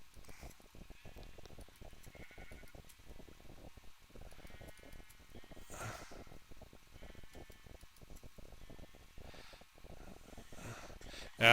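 Pink sheep in Minecraft bleat now and then over a steady stream of rapid clicking and tapping game sounds, the whole mix fairly quiet.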